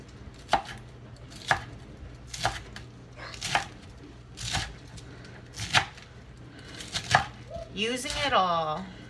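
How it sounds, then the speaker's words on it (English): Knife chopping through collard greens on a cutting board: about eight crisp, evenly spaced cuts close up, followed by a brief rustle of the leaves being gathered. "Don't you guys just love the sound of the knife cutting through the collard greens?"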